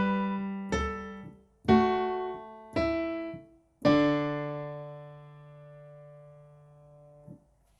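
Piano playing part of a song's chorus, four clear struck chords in an even rhythm, the last one held and left to ring out slowly.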